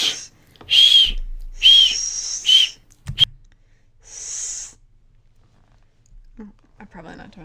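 A person whistles through pursed lips in short, breathy bursts, with a few brief thin tones between pauses and faint breaths, followed by quiet and a little low background noise.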